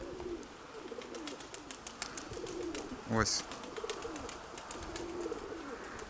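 Pigeons coo softly and steadily in the background while someone talks briefly; a sharp, rising bird call cuts through once.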